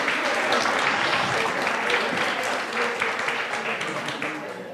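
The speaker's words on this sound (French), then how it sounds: "vous pouvez l'applaudir" A conference audience applauds a longtime volunteer, giving steady crowd clapping that stays fairly loud and slowly tapers toward the end, with some voices mixed in.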